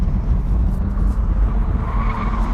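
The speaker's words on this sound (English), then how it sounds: "will it do great big drifts?" A sports car is drifting with loud, continuous tyre skid and roaring engine noise throughout, close and steady without pause.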